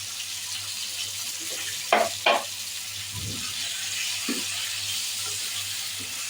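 Potatoes fry in a pan with a steady low sizzle, broken by a couple of sharp utensil clinks and soft stirring scrapes over a constant electrical hum.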